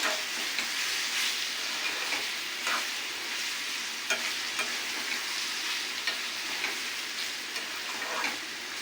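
Carrots cooking in a pan are stirred, giving a continuous hiss of sizzling with scattered scraping strokes of a utensil, close and even throughout with no talk.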